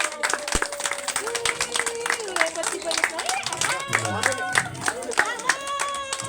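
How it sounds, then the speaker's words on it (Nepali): An audience claps to mark an inauguration at a Tihar festival programme, a dense run of sharp claps going on throughout while a voice talks over it. "जोरदार ताली बजाएर उद्घाटन गरिदिनु होला"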